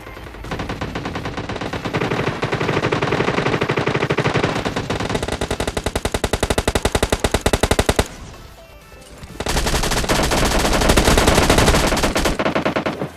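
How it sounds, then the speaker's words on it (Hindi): Heavy automatic gunfire in a video game rattles loud and close in long sustained rapid bursts, broken by one brief lull before the firing resumes, with no talking. "यहाँ पे काफ़ी सारा सामने काफ़ी तेज फायर होने लगती है"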